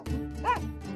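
A dog barking in a Turkish cartoon, a single sharp bark standing out over busy background music and sound effects.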